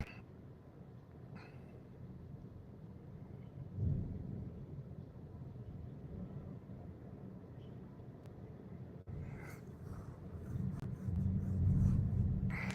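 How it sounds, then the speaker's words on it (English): Low rolling thunder rumbles through a storm, swelling briefly near the start and building to a louder, sustained roll toward the end, steady and moderately distant. "that thunder is making me sleepy"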